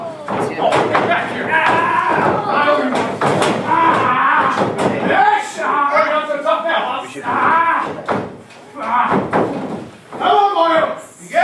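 Several cows moo loudly and close by, their long drawn-out calls overlapping, with occasional sharp knocks or thumps in the background.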